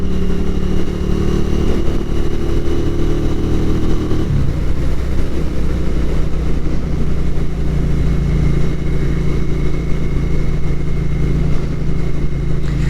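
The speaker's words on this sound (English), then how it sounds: "I kind of want to just keep revving the bike" Royal Enfield Interceptor 650 twin engine revving hard, a loud sustained exhaust roar that drops to a steadier idle-like rumble partway through, close to the microphone with no talk.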